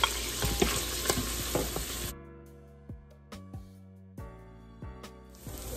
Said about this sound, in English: now that the butter and oil is ready, I can go ahead and dump the shallots in there